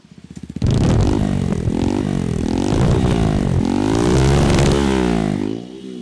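A 250cc motorcycle fitted with a loud modified aftermarket silencer revs hard at a traffic checkpoint, a steady throaty roar with rising and falling throttle blips, close and loud throughout.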